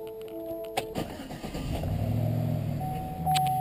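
Car ignition switched on with a few clicks and chimes, then the engine cranks and catches into a steady, moderately loud idle, with a high electronic tone near the end.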